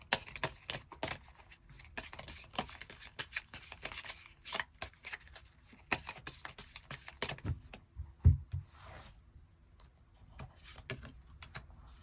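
Tarot cards being shuffled and drawn by hand, a run of quick papery riffles and taps close by, with a few soft thumps near the end and no talking.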